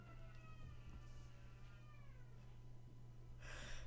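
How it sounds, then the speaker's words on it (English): A neighbor's child crying faintly in the distance, wavering wails drifting over a steady low hum with a brief louder burst near the end. "my neighbor's child is crying"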